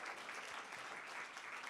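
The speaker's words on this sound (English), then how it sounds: "Please give a round of big applause to show our huge appreciation to the professors." Audience applause at an astronomy breakout session of the Hong Kong Laureate Forum 2025 fills the room as a dense, steady clapping from a large crowd, continuous throughout.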